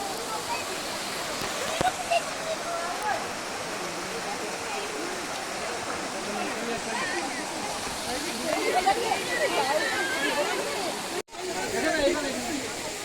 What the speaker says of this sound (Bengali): আর এখানটায় যে ঝর্নার জল পড়ছে